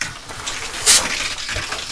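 Campground shower running at a state park, a steady close hiss of spraying water with a brief brighter splash burst midway, no voices.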